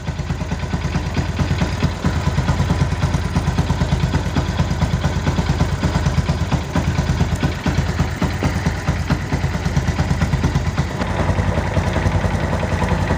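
Yamaha Byson motorcycle idling after an engine rebuild, a steady rough close-up drone with a faint ticking knock running through it and no speech.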